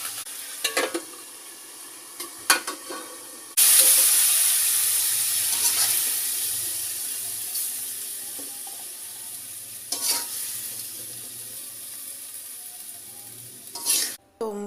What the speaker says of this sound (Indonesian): Tumis lenca dan oncom merah siap dihidangkan.